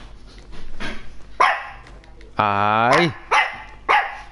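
A dog barks in the video game Genshin Impact, a few sharp barks and one longer drawn-out bark, close and loud, with a person talking between them.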